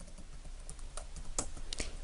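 Typing on a computer keyboard while entering data into a Hancom Office Hangul document, faint scattered key clicks at an irregular pace against a quiet background.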